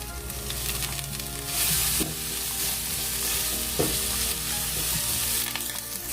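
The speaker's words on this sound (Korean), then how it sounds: "색이 밝은 당근을 먼저 볶겠습니다." Carrots stir-fried in equal parts cooking oil and sesame oil, a loud steady sizzle close up with repeated scrapes and knocks of a spatula tossing the pieces.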